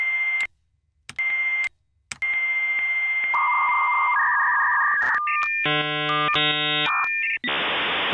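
Dial-up modem sound effect played from a soundboard: dial tones and touch-tone beeps, then screeching multi-tone handshake chirps ending in a harsh hiss, loud and clear with no talk.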